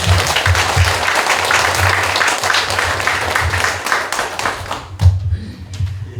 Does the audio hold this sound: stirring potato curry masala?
no